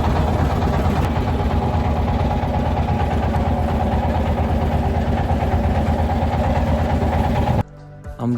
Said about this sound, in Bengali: আমাদের ট্রলারটা ছেড়ে দিয়েছে, আমরা এখন যাচ্ছি সেই ওই পার